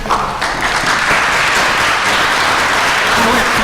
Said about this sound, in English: We're applauding the single parents who are raising their children.